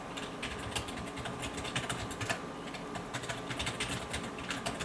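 Steady, rapid clicking from typing on a Dell computer keyboard, continuous keystrokes at moderate volume with no talk over them.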